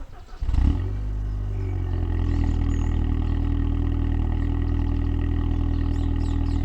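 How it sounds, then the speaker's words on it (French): An Audi TT MK2 8J with a 2.0 TFSI engine of 200 hp on its stock, cold exhaust cranks and catches, then settles into a loud, steady low idle roar with a few blips of throttle, close by and with no talk. "je vais démarrer la voiture, je vais te mettre quelques petits coups de gaz"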